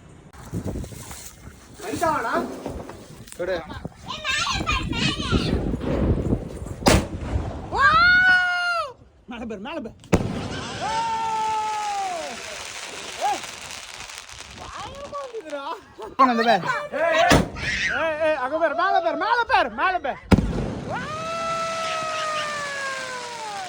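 World War fireworks from Vanitha Fireworks go off in a string of rising and falling shrieking whistles, sharp bangs and crackling bursts, loud and close, with brief quiet gaps between volleys.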